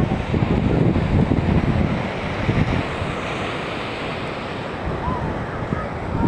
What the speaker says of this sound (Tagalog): Yung dagat eh